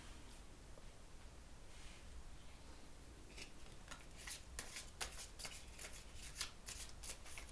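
Tarot cards shuffled for a reading, a quiet steady riffling hiss that builds into a run of crisp, rapid card flicks in the second half, with no talking.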